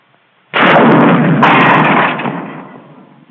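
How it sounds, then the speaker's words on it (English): An M1 bazooka rocket launcher fires a rocket in a 1943 military training setting: one sudden, loud blast with a harsh rushing roar that holds for about a second and a half before tapering away. "It takes a little time for the rocket to get out of the tube."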